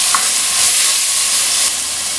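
Kalonji seeds and dry methi leaves are stirred in a hot pan, a loud, close, continuous sizzle with a bright hiss and no pauses.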